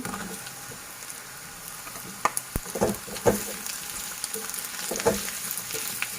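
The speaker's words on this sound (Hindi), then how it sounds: "हमारा प्याज हल्का फ्राई हो गया। उसके बाद मैं इसमें आलू डालूंगी।" Potatoes tipped into a pan of lightly fried onions over medium flame, steady sizzling and frying with a few sharp clattering stirs and drops partway through, close and moderately loud with no talking.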